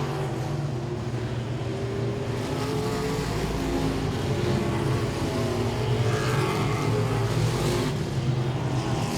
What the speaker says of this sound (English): 17 laps into the race at Langley Speedway with Beluzzo again showing the way.